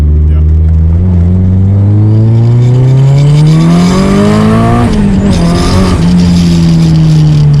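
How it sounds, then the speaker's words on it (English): A loud turbocharged engine in a Nissan Silvia 180SX revs and climbs in pitch with a rising turbo whine, louder from a T51R front housing, peaking near the end before easing off, steady and close throughout. "It's got a T51R front housing, so it's got a louder spool than normal."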